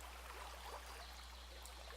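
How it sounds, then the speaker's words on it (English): A stream of running water murmurs steadily outdoors, a soft, even rushing and gurgling wash with no voices. "It's running water."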